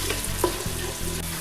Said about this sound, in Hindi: ये मैं ऑयल में डालूँगी। प्याज को हम अच्छी तरह से गोल्डन ब्राउन करेंगे।